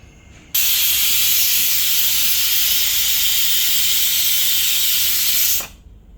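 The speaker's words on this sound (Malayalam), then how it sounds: "അപ്പോൾ നമ്മുടെ വിസിൽ വന്നിട്ടുണ്ട്" A loud, steady hiss of steam escaping under pressure from a Kenwood Multipro Express pressure cooker whistle on high flame, rushing continuously for about five seconds before cutting off sharply.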